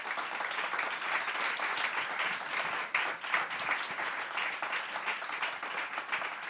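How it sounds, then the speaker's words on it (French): A crowd applauds steadily, dense clapping filling the room at an even, fairly loud level throughout with no voices on top. "applaudir et remercier."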